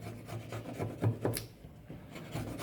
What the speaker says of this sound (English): Just chiselling out the waste with my bevel of my chisel down to the bottom of the pocket